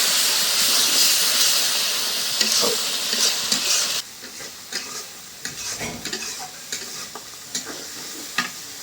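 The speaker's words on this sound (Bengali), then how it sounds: "মশলা ভালো করে কষাই নিলাম।" Ground turmeric, chili and coriander spices sizzle loudly in a hot pan, the hiss dropping partway through as a spoon scrapes and stirs with scattered knocks and clinks, close and alone.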